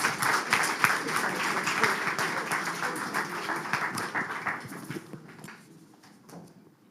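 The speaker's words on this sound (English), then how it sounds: "Round of applause." Applause from an audience at a Climathon awards ceremony in Bratislava, a dense steady clapping that carries for several seconds and then thins out and fades toward the end.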